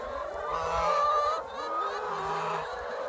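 Laying hens on a grassy pasture inside electric netted fencing cluck and chatter as a flock, a steady overlapping mix of close calls with a few louder drawn-out notes, and no talking.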